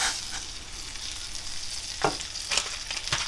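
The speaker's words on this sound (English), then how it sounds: "Water boiling. I'm going to put my couscous in." Dry couscous is poured into boiling water in a pot, giving a soft hiss and sizzle with a few brief splashing bursts, faint and close.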